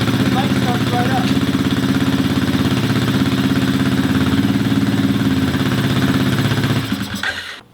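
A Kymco scooter engine with a fuel leak and an idle problem runs at a steady, loud idle, a close buzzing putter that holds even for about seven seconds, then fades as the engine dies.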